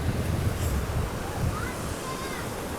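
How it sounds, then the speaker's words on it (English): Sea waves surge and wash onto a windy Mediterranean shore, a steady broadband roar with a few louder swells, close by, blended with wind buffeting the microphone. "The waves are coming to kill me."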